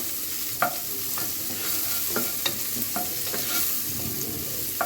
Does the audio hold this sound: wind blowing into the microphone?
no